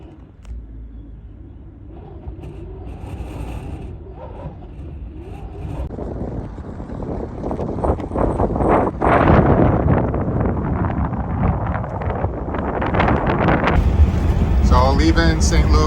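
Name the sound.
strong wind blowing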